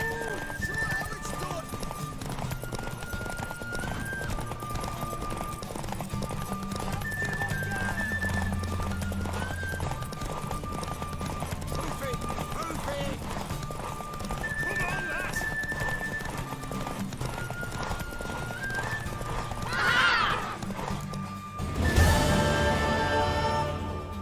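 In The Witcher 3 video game, a horse's hooves clip-clop steadily under spoken character dialogue and background music, then the horse gives a loud neigh near the end.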